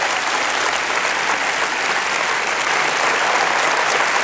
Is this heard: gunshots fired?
no